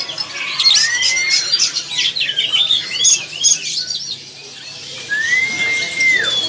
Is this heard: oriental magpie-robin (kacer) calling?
yes